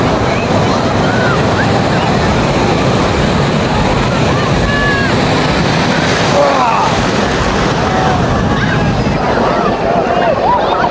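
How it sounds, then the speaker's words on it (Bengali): Surf rolls in at Digha beach, a dense, continuous roar of breaking sea waves recorded close and loud, with wind rumble on the microphone and a slight swell midway. "আরেকটি ঢেউ আসছে, আরেকটি।"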